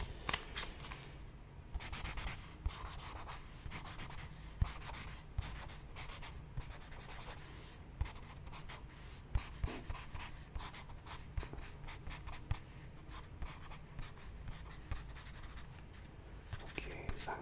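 Pen strokes scratching across paper as a house is quickly sketched against a timer, a steady run of short scribbles and taps with faint breathing and soft murmurs underneath.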